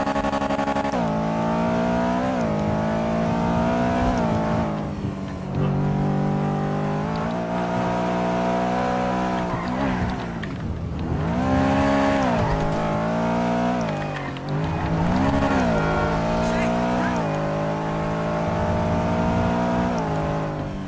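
Car engine in GTA roleplay on the NoPixel server, a paddle-shift car with no clutch, revving steadily with pitch rising and falling through gear changes, loud and continuous, with dips around shifts.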